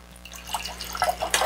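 Dark Myers's rum pours into a glass as a soft, close liquid trickle with light splashy drips building toward the end, heard alone without talk.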